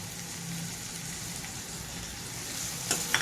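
Onions frying in a pan with tomatoes just added, a soft continuous sizzle at moderate distance, with a couple of sharper utensil clicks near the end.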